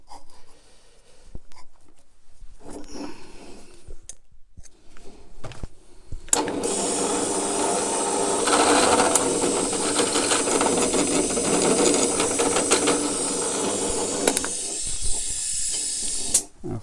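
A step drill bit cutting an 8mm hole through a metal bracket for a Land Rover Defender TD5, a sustained loud, grinding whir that starts abruptly after quieter handling sounds and runs steadily for about ten seconds.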